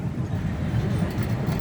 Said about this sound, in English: Now the locomotive definitely we're traveling behind is a 1/3 scale replica of a very famous locomotive, the C.P. Huntington.